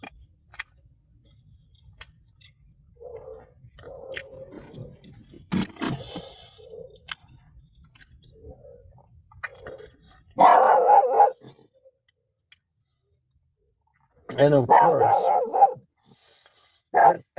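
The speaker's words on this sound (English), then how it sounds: "somebody else's dog just had to start barking while I'm doing a mukbang" A neighbor's dog barks in loud, close bursts, first a run of rough barks then a second volley after a pause, with quieter scraping and small sounds earlier and a brief voice.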